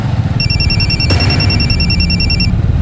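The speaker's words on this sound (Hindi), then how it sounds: "कोमल तुम्हारा फोन बज रहा है" A mobile phone ringtone of steady, sustained electronic tones plays loudly, close by, for about two seconds over a low background rumble.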